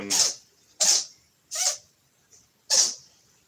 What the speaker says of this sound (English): oh, my cat's sneezing.